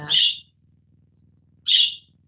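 A caged pet bird gives two short, bright, high calls about a second and a half apart, close and clear over a faint low hum.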